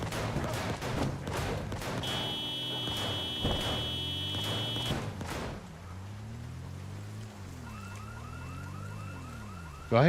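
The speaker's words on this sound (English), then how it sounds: "Where's the alarm going off at?" Alarm blaring in the Project Zomboid video game, a repeating electronic siren with steady on-off pulses and a gliding wail, moderately loud over background game sounds.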